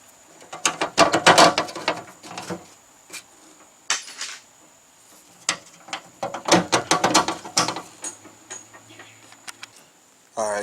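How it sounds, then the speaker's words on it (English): Pop rivets are set through a tailgate latch on an OBS Chevy Silverado shortbed, giving bursts of rapid ratcheting clicks and snaps from a hand riveter, close and fairly loud, in two main clusters with pauses between. "Now I can put my rivets in."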